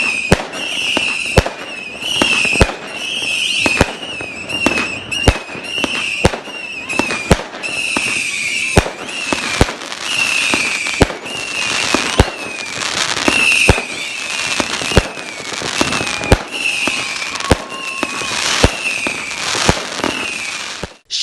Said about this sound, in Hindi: लोग अपने प्यारों के साथ घंटा भर आतिशबाजी का शानदार मुजाहरा देखते